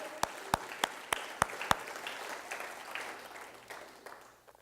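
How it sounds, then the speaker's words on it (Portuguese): Applause from a church congregation, opening with a few sharp, distinct claps before settling into a softer, diffuse patter that fades out. "dá mais um aplauso a Ele"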